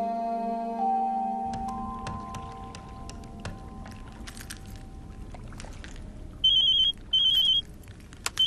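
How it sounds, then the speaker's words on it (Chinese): A telephone rings in short repeated bursts toward the end, two loud electronic rings following a stretch of quieter mixed room sounds and fading tones. "以后这个电话响是玲玲打给你的"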